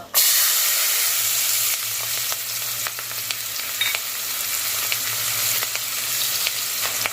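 Turmeric, dried chilies and onion fry in a pan for a South Indian moong dal khichdi, giving a steady loud sizzle with stirring scrapes and a low hum underneath, no voices.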